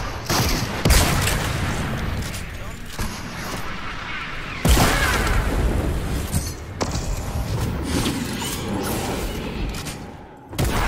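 Rocket launcher blasts in a video game, heavy booming shots with a couple of sharp peaks over a dense, continuous rumble of battle noise.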